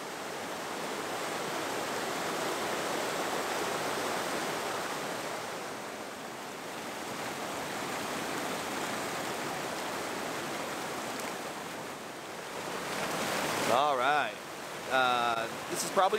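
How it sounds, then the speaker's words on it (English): A snow-fed river running high with spring runoff on a Memorial Day backpacking trip near Mirror Lake Highway, a steady broad rushing wash close by that holds for the whole stretch, with a few brief handling knocks near the end. "I need to find a place to cross this river safely."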